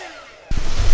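A heat gun switches on partway through, a sudden loud rushing blow of air close by as it warms resin poured on rose-effect coasters.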